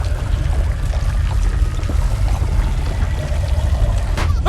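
Water pouring continuously in The Baby in Yellow video game, a steady close splashing rush with low rumble and no pauses.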